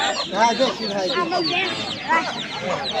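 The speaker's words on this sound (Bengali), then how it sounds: "এগুলো কার মুরগি বাচ্চা?" Native chickens and chicks at a village market cluck and squawk in a busy, continuous chorus close by, with people talking over them.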